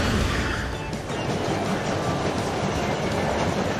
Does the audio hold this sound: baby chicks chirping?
no